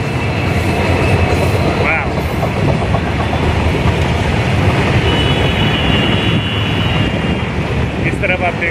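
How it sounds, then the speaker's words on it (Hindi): Indian Railways freight train crossing at speed, hauled by a locomotive, a loud continuous rumble and clatter of wagons with wind noise, sustained for the whole stretch with no pauses. "चलिए देखिए मालगाड़ी की क्रॉसिंग, और भी मेरे प्यारे लोकोमोटिव के साथ।"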